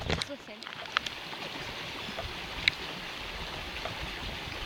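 An outdoor river flows with a steady broadband rush of water, heard from nearby during a bike ride, with a few faint clicks and knocks on top.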